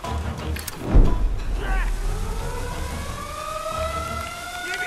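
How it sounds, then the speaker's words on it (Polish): A siren wails in the Tomb Raider video game, rising and falling steadily across the whole stretch amid game noise, with a thud near the start. "Przestań wyć tą syreną w końcu gnoju."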